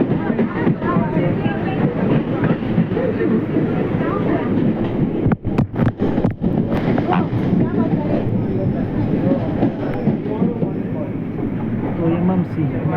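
On board an MRTS elevated suburban train running between Fort and Park, the carriage gives a loud continuous rumble with rhythmic wheel clatter, while someone talks over it throughout.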